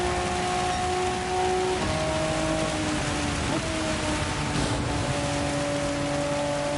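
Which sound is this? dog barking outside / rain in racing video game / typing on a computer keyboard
rain in racing video game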